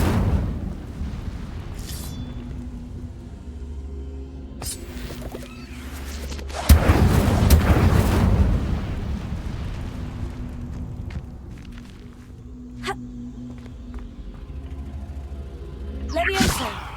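In Hogwarts Legacy, an Incendio fire spell goes off with a loud roaring burst of flame and rumble that swells and slowly decays, framed by sharper magical impacts before and after.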